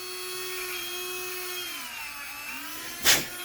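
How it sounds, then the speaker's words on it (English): A Dremel rotary tool whines steadily while polishing the contact of a glow igniter for nitro engines, its pitch dipping as it is pressed in and then rising again, ending in a short sharp scrape. "Just get in there really good with my Dremel."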